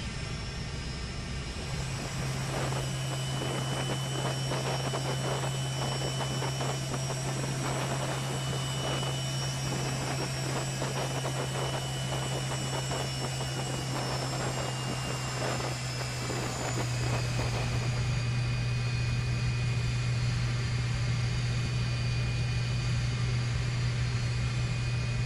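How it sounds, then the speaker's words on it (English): Lockheed L-1011 TriStar airliner engines spool up for takeoff on a runway, a loud steady cabin roar with rising whine and a strong low drone that thickens and holds for the whole stretch. "Clear for takeoff, runway 3"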